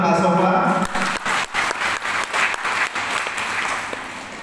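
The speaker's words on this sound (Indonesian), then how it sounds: "Tepuk tangan untuk Pak Sofa" An audience at a talk on children's talents bursts into applause for a speaker, loud, dense clapping that starts with a voice over it, then continues in uneven waves and slowly eases.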